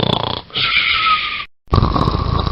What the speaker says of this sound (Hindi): दादाजी इतने जोर जोर से खर्राटे भरते हैं